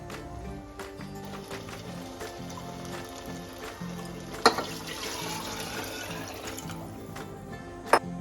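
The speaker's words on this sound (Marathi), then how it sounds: "तीन चार वाटे पाणी टाकलंय" Water poured into a cooking pot holding chicken and rice for Maharashtrian alani bhat, a steady splashing fill heard close up without speech, with two brief sharp clinks along the way.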